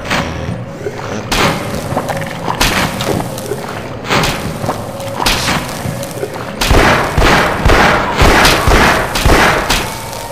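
Gunfire and heavy thumping impacts ring out during a firefight in the first-person shooter Half-Life, loud and repeated in bursts of booming shots that carry on without a break.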